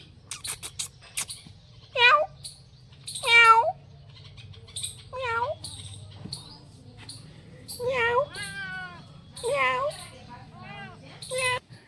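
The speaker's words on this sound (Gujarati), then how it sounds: "આ છે પાળેલી મીંદડી" A cat meows repeatedly, several distinct rising-falling cries spaced a second or two apart, close by over a low steady hum.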